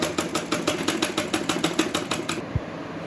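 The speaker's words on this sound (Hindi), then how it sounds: "अब मैं इस पे ऊपर की तरफ एक पैर की सिलाई लगा दूँगी।" A sewing machine stitches a heavy embroidered blouse with a fast, steady mechanical clatter of evenly spaced stitches, running for a couple of seconds before stopping abruptly.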